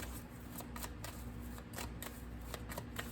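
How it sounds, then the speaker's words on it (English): Tarot cards being shuffled, quiet riffling bursts repeating at a steady pace, close but faint against a low background hum. "We just did all that shuffling."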